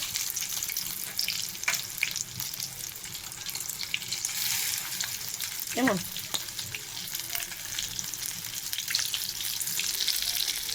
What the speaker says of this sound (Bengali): আমার ভাজা হয়ে গেছে সুন্দর